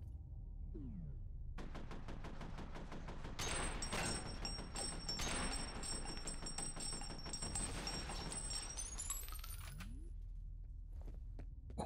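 Automated turrets in F.E.A.R. fire sustained rapid bursts, dense mechanical rattling gunfire lasting several seconds, with a high electronic tone overhead and brief whooshing sweeps before and after.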